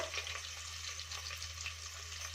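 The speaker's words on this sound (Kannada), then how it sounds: "ಚೆನ್ನಾಗಿ ಫ್ರೈ ಮಾಡ್ಕೊಳ್ಳೋಣ." Sliced onion and garlic fry in a pan as the base for a bean sambar, giving a steady, close crackling sizzle with no talking over it.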